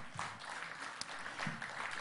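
A crowd claps steadily together, a dense wash of applause filling an indoor space.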